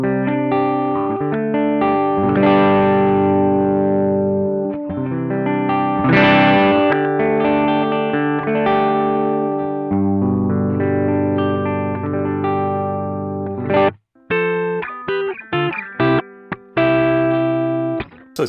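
Electric guitar runs through a BOSS OD-3 overdrive pedal at low gain, strummed chords and single notes with a warm, mildly distorted tone, followed by choppy staccato stabs near the end, played alone.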